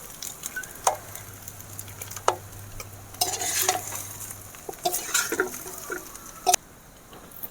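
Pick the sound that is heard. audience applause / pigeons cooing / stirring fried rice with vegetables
stirring fried rice with vegetables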